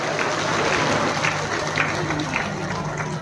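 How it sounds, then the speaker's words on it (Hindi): A crowd at an outdoor political rally in Mandla, Madhya Pradesh, applauds loudly in a sustained burst of dense clapping, with a voice faintly audible beneath. "प्रमाणित हो जाए जोरदार तालियां बजाकर।"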